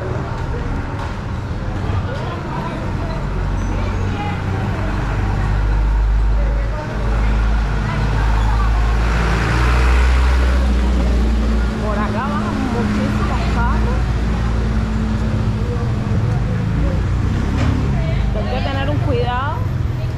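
Busy street traffic in Havana, Cuba, with cars and motorbikes rumbling past steadily, occasional engine swells and horn-like tones, while people talk nearby over the continuous roar.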